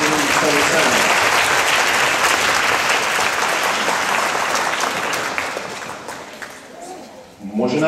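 Loud audience clapping at a family music show, strong at first and then thinning and fading over several seconds, with a voice starting to speak as it dies away.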